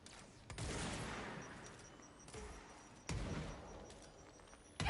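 Enemy gunfire in the video game Control, several bursts of shots with sharp onsets spread over a few seconds, moderately loud against game ambience.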